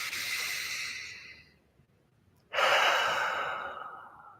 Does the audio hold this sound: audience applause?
no